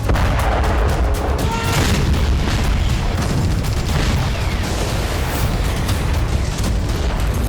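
Continuous heavy booming and rumbling, like artillery fire and explosions blending into a dense roar with scattered sharp bursts throughout.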